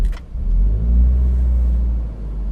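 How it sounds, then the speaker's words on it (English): A supercharged 2017 Toyota 86 boxer engine fires up with a brief catch, then settles into a loud, close, deep growling idle that rises and falls slightly. "you get that nice little boxer growl"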